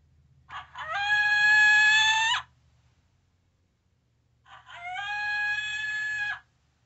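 Cass Creek mini electronic predator call playing a rooster crowing, two long crows separated by a short pause, loud and close with a faint hum underneath.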